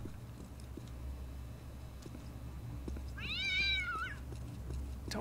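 A cat meows once inside the video game Postal 2, a single drawn-out mid-pitched call near the end, heard over a steady low game ambience with faint clicks.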